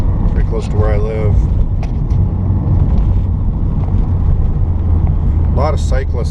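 A 1986 Porsche 944 non-turbo cruising along a canyon road, its steady low engine rumble and road noise loud and constant throughout, with someone talking over it.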